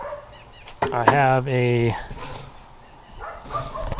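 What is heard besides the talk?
dogs barking outdoors in the country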